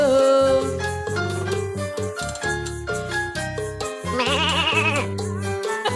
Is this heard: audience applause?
no